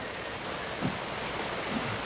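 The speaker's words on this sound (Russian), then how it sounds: "Дождь льет, мокрый, холодно." Steady rain pours down outdoors in cold, wet weather, a dense continuous hiss of drops with no voices.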